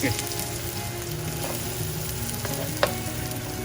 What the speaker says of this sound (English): Going to let the onions cook till they turn color and glaze over, also brown a bit